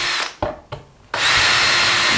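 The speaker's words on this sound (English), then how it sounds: "then what we want to do is drill our hinges, but we want to drill back" A power drill drilling hinge holes in a door whirs in two short bursts, then runs steadily at high speed, close and loud, with no voices.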